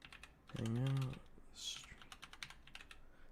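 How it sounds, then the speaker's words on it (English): Rapid clicky keystrokes on a mechanical keyboard patter steadily throughout, close and fairly quiet, with a brief hum and a hiss of other sound partway through. "Sorry if you're the type who's annoyed by mechanical keyboards."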